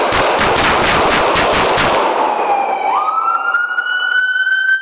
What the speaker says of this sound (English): Shots fired, roll medical